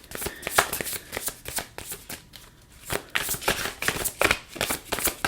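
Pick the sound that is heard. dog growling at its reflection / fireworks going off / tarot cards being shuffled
tarot cards being shuffled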